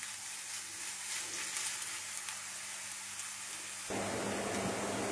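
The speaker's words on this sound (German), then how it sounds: "So, circa 2 Minuten einrühren die Zwiebeln" Onions stirred and frying in a pan for a chicken curry, a steady bright sizzle that swells suddenly louder and fuller near the end, close and without talking.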